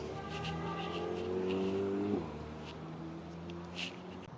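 A Porsche 911 GT3 Touring driving along a Paris street among supercars, its engine rising in pitch as it accelerates and then easing off, moderately distant under city background noise.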